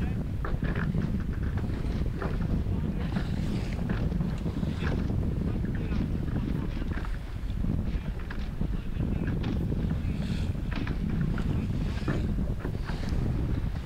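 Steady, rushing wind and water noise from a racing sailboat under way in a match-racing duel, a continuous roar with buffeting gusts across the microphone and a voice faintly audible beneath.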